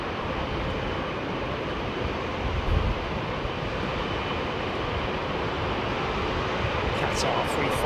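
Qatar Airways Airbus A350-900 landing at Heathrow in gusty wind, a steady broad jet roar that holds loud and constant throughout, with wind buffeting the microphone and faint voices underneath.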